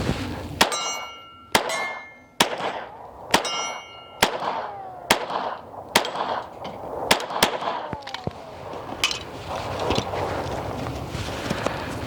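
Pistol shots from an Archon Type-B ringing off a steel target on an outdoor range: a dozen sharp, loud cracks at uneven spacing, each followed by a bright metallic clang, with no talk.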